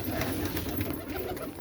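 Pigeons kept by a racing pigeon keeper coo softly near feed being scattered, low repeated cooing over a steady outdoor background.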